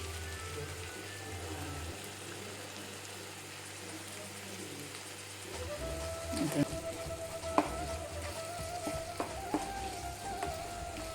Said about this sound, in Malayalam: ഇനി ഇതിലേക്ക് വറുത്ത സവാള ഇതിലേക്ക് ഇടുകയാണ്